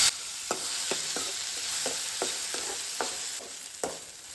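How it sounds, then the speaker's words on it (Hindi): Tomatoes frying with onion and chilies in a pan give a steady close sizzle, broken by sharp clinks of a spoon stirring and scraping every half second or so. "टमाटर अच्छे से भुनने के बाद"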